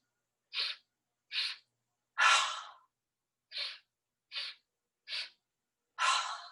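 Forceful breaths are pushed out through the mouth during a seated breathing and stretching exercise. There are seven short puffs with gaps between them, two of them longer and fuller, all close and loud in otherwise silent surroundings.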